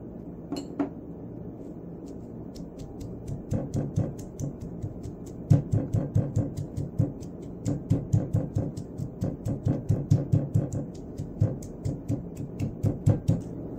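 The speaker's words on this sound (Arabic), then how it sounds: "نطحن الفلفل الأحمر المقطع في المورتر مع رش قليل من الملح" Steady rhythmic pounding as chopped red chilies with a little salt are ground in a mortar, a regular series of dull knocks with light clinks, continuing without any voices.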